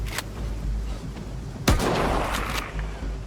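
Gunfire in an open-world survival video game: a sharp, booming shot at mid-clip rolls into a long echoing tail, with fainter reports before and after, no speech.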